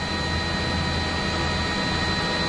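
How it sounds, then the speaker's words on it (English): A police helicopter flying overhead during a pursuit, its rotor and turbine making a steady, close, broadband whine and drone with no break and no talk. "is that the police chopper that just flew by that's still looking around for him as well?"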